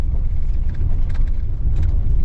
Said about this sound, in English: We're going to gear down here.